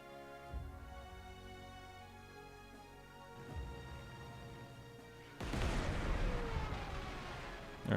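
A Stuka air attack in the strategy game Panzer Corps 2 sets off low booming artillery-like blasts, two muffled thuds followed by a loud, sustained crackling explosion, over steady game music and without speech.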